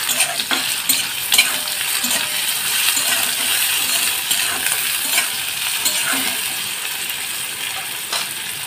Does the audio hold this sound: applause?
no